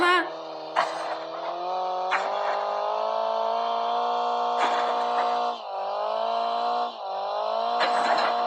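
A car engine in the Call of Duty battle royale game drones loudly and steadily, with pitch rising and dropping as the vehicle speeds up and shifts, plus brief rattles and bumps along the way.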